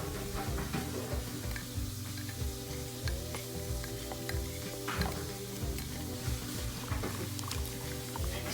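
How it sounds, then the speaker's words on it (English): A spoon stirs lye into a mixed yogurt, tea and coconut milk base for fall bar soap, a steady close swishing and scraping that runs the whole time against a constant low hum. "Stir in the lye until well dissolved."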